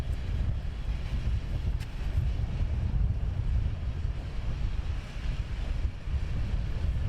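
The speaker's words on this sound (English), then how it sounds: "he'll just do a straight out intersection takeoff" An aircraft makes an intersection takeoff at London Luton Airport, a steady, distant, broad engine roar heard outdoors under heavy gusting wind on the microphone, with no voices.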